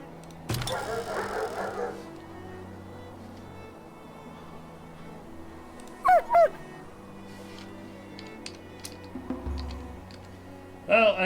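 Ratting dogs in the village-building game Farthest Frontier give short, sharp yips and barks in two brief bursts midway and at the end, over quiet game ambience and faint clicking.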